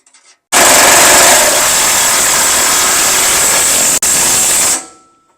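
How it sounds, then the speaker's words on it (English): A power tool, likely an impact wrench, runs in one loud continuous burst of about four seconds, snugging a bolt on a heavy-duty truck tow hitch, with a brief dropout near the end before winding down. "Now we get the impact out here and get a good snug on it."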